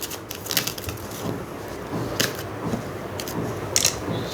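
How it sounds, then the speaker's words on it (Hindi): Tarot cards being shuffled by hand, with a steady papery riffle and several sharper slaps as cards slip and drop, close and fairly loud, with no talking. "बहुत ज़्यादा कार्ड्स गिर रहे हैं।"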